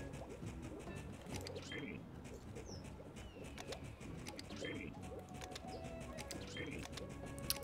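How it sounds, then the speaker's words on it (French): Birds in the desert area of the video game Super Mario Odyssey give faint, repeated cooing and short chirping calls over a busy background of game sounds. "Et pourquoi il y a des oiseaux là?"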